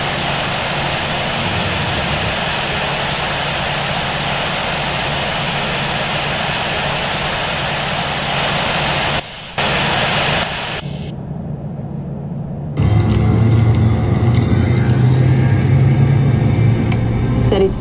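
Airliner jet engines whining while the plane taxis in the Infinite Flight simulator, a loud continuous roar that breaks briefly and then swells again. A voice speaks over it.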